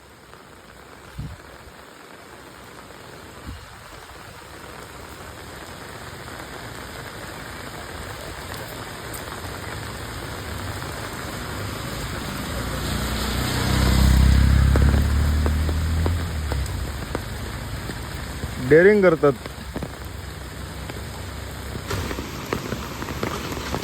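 Heavy monsoon rain pours down steadily on a flooded road, a constant loud hiss that swells around the middle as if something passes close by. A voice speaks briefly near the end.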